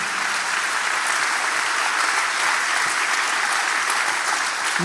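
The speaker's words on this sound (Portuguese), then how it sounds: "É a palavra de Deus, você pode aplaudir ela, porque ela é linda." Church congregation applauding during a Portuguese-language worship sermon, dense steady clapping filling the room throughout, loud and continuous with no speech over it.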